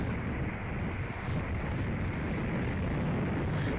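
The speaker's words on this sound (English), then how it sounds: "And the wind is blowing too." Steady wind gusting over a microphone at an eagle nest holding month-old eaglets, a loud continuous roaring rush with no break, close and alone.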